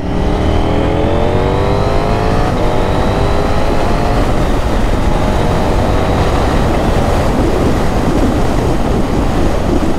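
KTM Duke 890 R motorcycle fitted with an IXIL RC exhaust pulling onto a highway, engine note rising through gears with loud continuous wind roar throughout.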